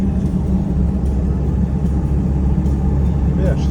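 A 1992 Toyota Hilux truck on new Toyo AT3 tyres cruising slowly, a low steady engine and road rumble from inside the cab with no change in pace.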